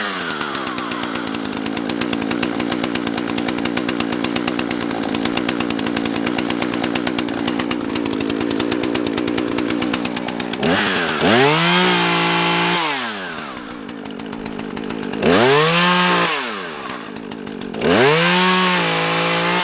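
A chainsaw runs at high idle after a restart, a loud close buzzing drone that holds steady, then revs up and down in several surging bursts while cutting on a tree-felling job, with no talking.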